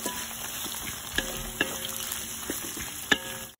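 Sliced onions fry in hot oil for a chicken biryani garnish, a steady close sizzle with occasional stirring clinks and scrapes of a utensil.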